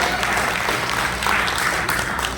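Loud, dense audience applause at a Futurenet update event in a hall, a steady wash of clapping hands filling the whole moment without pause.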